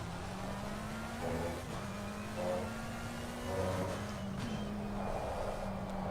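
A BMW engine drones steadily in a racing video game, its pitch rising and falling as the car accelerates and eases off, with no talk over it.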